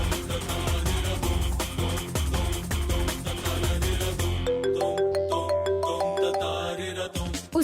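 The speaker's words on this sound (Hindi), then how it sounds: "उसी का फोन है, उठाकर स्पीकर ऑन कीजिए।" A melodic phone ringtone plays, a repeating electronic tune with a steady beat, loud and close.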